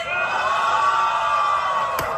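A battle rap audience roars and whoops in a sustained wall of cheering, loud and dense, with a brief sharp clap near the end.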